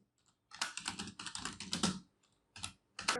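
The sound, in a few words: typing on a computer keyboard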